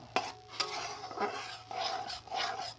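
Milk and water being stirred in a pot, a few faint scraping and clinking strokes against the metal, quiet and close with no voices.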